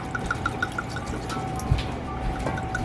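Beef broth is poured into a measuring cup, a short steady trickling pour with light liquid splashing, close and quiet against faint kitchen background.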